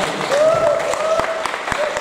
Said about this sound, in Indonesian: Tepuk tangan lebih keras.